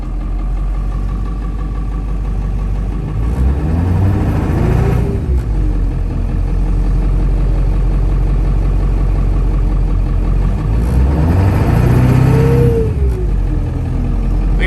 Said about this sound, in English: it's a big engine, it's a loud engine